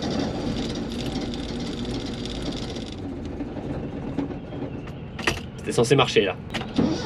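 A car engine fails to start, cranking with a continuous whirring starter drone for several seconds, then stuttering clunks and rattles as someone speaks briefly over it.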